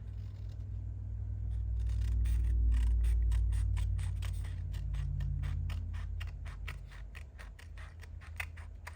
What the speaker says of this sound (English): And now we can go back and cut this.